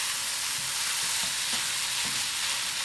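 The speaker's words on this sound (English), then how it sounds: "Now I'm just trying to mix it in, get it all incorporated and stirred in." Bacon fried rice frying on high heat in a pan, a steady loud sizzle with soft scraping stirs every half second or so, no voices.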